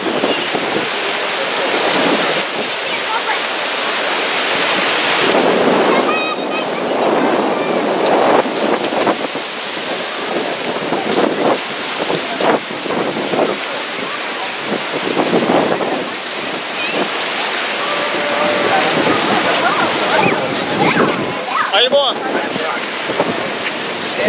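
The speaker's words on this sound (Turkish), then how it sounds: "Hint Okyanusu." Indian Ocean waves at a beach in Colombo, Sri Lanka, surging and washing ashore in repeated swells, mixed with gusts of wind buffeting the microphone.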